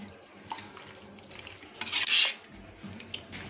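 Sugar being stirred into semiya payasam in a pot: soft scraping and light clinks of a spoon, a brief louder watery swish midway, with no talking.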